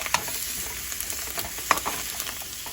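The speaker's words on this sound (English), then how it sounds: "Our Canadian bacon is done frying" Steady sizzling of Canadian bacon frying in a pan, with a soft continuous crackle and a few sharper pops, no voices.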